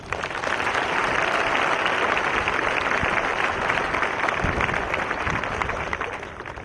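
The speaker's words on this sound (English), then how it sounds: "Please join me in giving these ASU graduation candidates a round of applause." Audience applause for ASU graduation candidates at Eastern Arizona College's 2014 commencement: a broad, steady wash of many hands clapping from a large crowd, sustained for several seconds before easing off.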